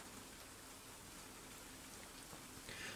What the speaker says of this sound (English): Until I woke up to the sound of rain.